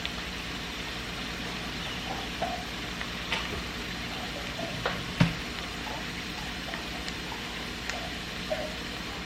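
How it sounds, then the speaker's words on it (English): Vegetables sautéing in a pan for cornbread dressing give a low, steady sizzle, with occasional soft taps and one sharper knock of a utensil, close by and with no talking. "I'm just going to saute them as is."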